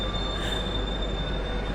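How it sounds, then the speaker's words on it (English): Steady rail noise of a night train from Germany to Paris fills the clip, a continuous rumble with a high, sustained wheel squeal running through it; no talking. "That's my train!"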